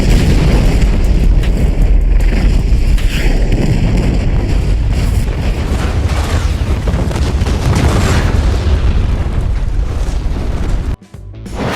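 A massive record-setting film stunt explosion staged in Morocco with high explosive, powder charges and kerosene roars as a loud, sustained blast, a dense rumbling wall of noise lasting about ten seconds before cutting off abruptly.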